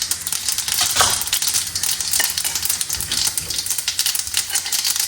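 Cumin and mustard seeds sputter and crackle in hot oil for garlic chutney in a home kitchen, with dense, continuous close-up popping and sizzling and no talk.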